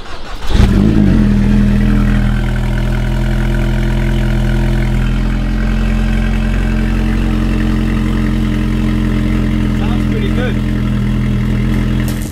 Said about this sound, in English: The Alpine, this hasn't been started in a few weeks, so hopefully it should be all good.